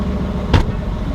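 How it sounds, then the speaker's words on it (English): A Mercedes-Benz AMG GT engine rumbles deep and loud at close range, with a short sharp burst partway through the brief snippet. "So now let's crank this car real quick. Oh man, this is loud."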